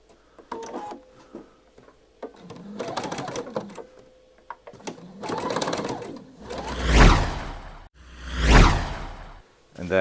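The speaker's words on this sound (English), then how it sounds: "Then you want to do a line of stitching all the way along there" A sewing machine runs a line of stitching along a dress sleeve, a close, rapid, rattling hum in stop-start bursts, followed by two loud swishing fabric rustles near the end.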